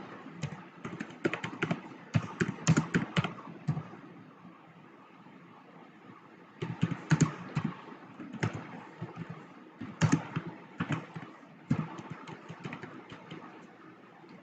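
Someone types on a computer keyboard into a Word document: clusters of quick soft key clicks in several bursts with pauses between, close by over a low steady background hum.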